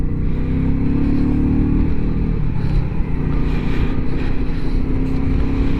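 A Royal Enfield Meteor 350 motorcycle ridden in sub-zero weather after a service, its small single-cylinder engine thrumming in a steady low, loud burble that shifts pitch slightly around midway, with constant wind and road noise and no talking.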